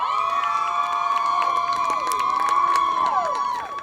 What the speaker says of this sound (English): Here's the North High cheerleaders cheering on the Polar Bears